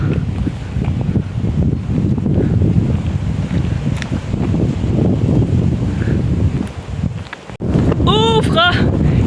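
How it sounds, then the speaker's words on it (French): Strong wind gusts buffet the microphone outdoors in a southern French village, a loud continuous rumbling roar with a short drop near the end, followed by faint high-pitched calls. "Il y a du vent!"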